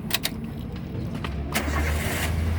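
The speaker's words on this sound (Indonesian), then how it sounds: "sekarang kita nyalakan dulu mobil" A 2010 Toyota Avanza 1.3 G with manual transmission starts up: a couple of clicks, a brief cranking, then the engine catches and settles into a steady, close idle.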